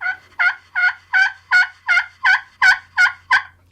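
A slate turkey call, played dry, gives about ten evenly spaced yelps in a steady rhythm, each one clear and close, with no other sound.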